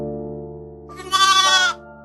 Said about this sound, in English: the cries of a young lamb bring a human to the rescue